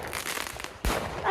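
A sharp firework bang bursts in the sky, followed by crackling and rumble, with a voice reacting briefly over the end.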